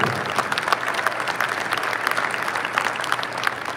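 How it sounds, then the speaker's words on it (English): Audience applause for an executive director at an Iron Dog 2023 racer draw event, many hands clapping steadily with a few sharper nearby claps, no talk over it. "Round of applause for our Executive Director, Mike Vassar"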